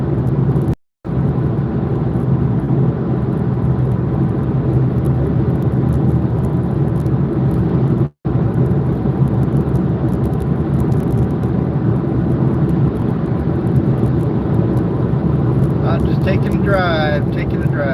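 A car cruises north on Interstate 5 in Washington State, its steady close engine and road rumble running continuously, broken only by two very brief dropouts.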